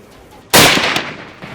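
A single sharp rifle shot cracks out during a hunt in South Africa, loud and close, with a short echoing decay and faint rustle afterward.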